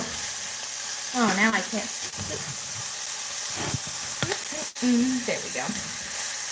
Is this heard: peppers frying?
yes